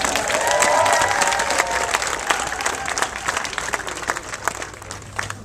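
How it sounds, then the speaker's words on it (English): A crowd at a mayor's civic plan launch event applauds its funders: loud, dense clapping with some cheering early on, gradually thinning into scattered individual claps toward the end. "Let's give all of our funders a round of applause"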